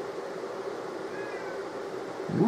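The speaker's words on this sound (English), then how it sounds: "Apart from the cat you can hear in the background." A cat meows faintly in the background of a quiet room with a steady hiss, giving one short, drawn-out call partway through.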